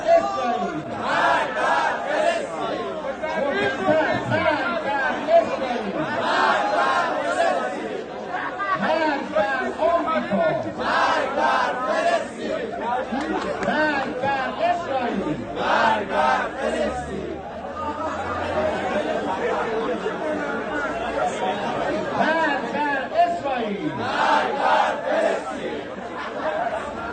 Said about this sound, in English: Iranian officials tells a crowd of university students to chant death to America, death to Israel